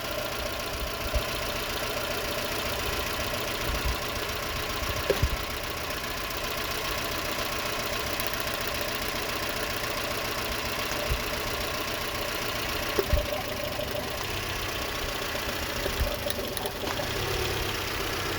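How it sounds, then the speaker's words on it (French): A Renault Twingo 2 with the D4F engine idles roughly with an ignition misfire on coil four, giving a steady, uneven engine hum broken by occasional knocks and stumbles, heard close and alone. "On va laisser un peu le moteur chauffer. Elle continue de trembler."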